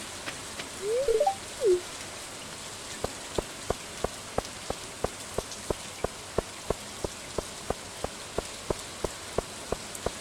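Rain falls in the farming game Stardew Valley, a steady soft patter with evenly spaced ticking drops that keeps a regular rhythm throughout, with no voices.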